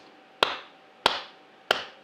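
Three sharp single hand claps made with one hand turned backwards, evenly spaced with a brief room decay after each, in a quiet children's music lesson.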